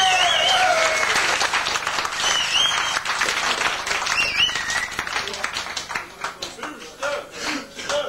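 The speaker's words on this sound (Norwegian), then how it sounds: "Skikkelig applaus!" An audience at a hotel drinking contest in Ulsteinvik during a 1986 diving Easter event breaks into sustained applause, a dense wash of many hands clapping that thins into scattered claps toward the end.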